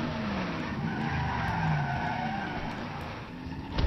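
A car in Resident Evil 7 skids through a full 360-degree spin, its tires squealing in a long, loud screech that rises and falls over engine noise, ending in a sharp thud.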